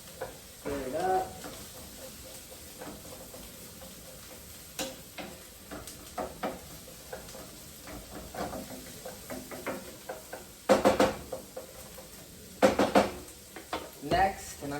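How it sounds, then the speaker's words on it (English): Broccoli and other vegetables stirred in a pan, with scattered scraping clicks and clatters of a utensil against the pan over a faint sizzle, with a few louder knocks near the end. "Stir it up."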